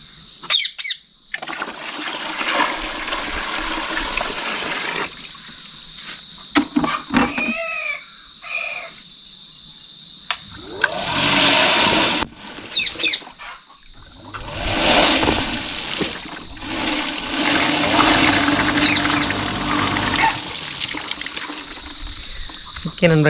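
A restored 1hp open well motor pump runs and gushes water, a broad rushing, splashing noise that swells and drops in bursts, with rooster crows and other outdoor sounds mixed in.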